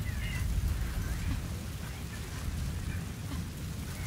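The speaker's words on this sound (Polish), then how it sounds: "Burza ustaje już." Rainstorm in the Metal Gear Solid V: The Phantom Pain video game, a steady broadband hiss of rain with low rumbling underneath, continuous and fairly loud throughout, with no talking.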